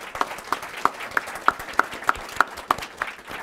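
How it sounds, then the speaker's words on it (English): An audience applauds after a think-tank panel conversation. A few distinct, close claps stand out at a regular pace over a softer spread of clapping from the crowd. "applause for just a really rich conversation."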